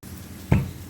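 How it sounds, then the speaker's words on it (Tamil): A single soft thud as green turkey berries are lightly tapped to crack them, one short dull knock in a quiet kitchen, close by and alone. "ரொம்ப அழுத்தி தட்டாமல் லேசாக தட்டினாலும் போதுங்க"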